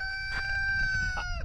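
A rooster crows loud and close on a farm near a pasture, a single sustained harmonic call with a couple of short bursts, no talking over it.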